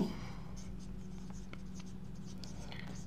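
A pen scratches on paper in short, faint strokes while working a bisection-method calculation, over a constant low hum, with no clear talk.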